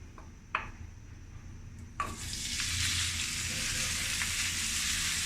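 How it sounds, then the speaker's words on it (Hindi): Mutton keema hits a hot pan with a tablespoon of oil: after a couple of sharp clinks, a loud burst of sizzling starts and holds as a dense, steady crackle. "अब ये इसमें जाएगा जी कीमा।"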